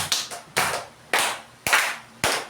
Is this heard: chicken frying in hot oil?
no